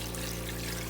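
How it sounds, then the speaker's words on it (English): Water pours into a pot of curry oxtails as a short, steady gush that stays loud for about a second. "Now I'm going to go in with that water."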